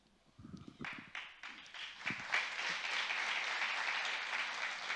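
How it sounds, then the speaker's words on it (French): Scattered claps build quickly into steady applause from a crowd, filling the room and holding at an even level. "Je pense que le taux d'applaudimètre de Marilus grimpe de plus en plus au fil de la soirée."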